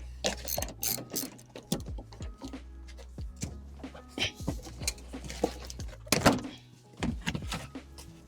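A hand ratchet clicks in quick repeated bursts while undoing 10 mm nuts inside an L322 Range Rover, close and crisp, with short pauses between sets of strokes.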